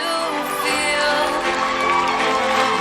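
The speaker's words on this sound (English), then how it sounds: "Come on, keep clapping." Dense crowd noise at a student pinning ceremony, with applause and cheering blended into a steady, loud wash from a large audience; scattered shouts and voices rise through it.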